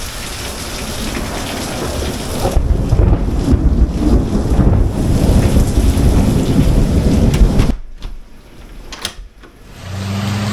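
Heavy rain pours down in downtown Navasota, Texas, with thunder rumbling through a steady, loud wash of rainfall that drops away abruptly near the end, leaving quieter patter and gusts.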